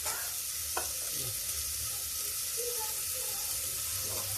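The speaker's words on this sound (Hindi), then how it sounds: "इसी समय लहसुन डालते हैं, लहसुन प्याज।" Garlic and onion frying in a pan, a faint continuous sizzle with a few light knocks and scrapes of the utensil, no speech.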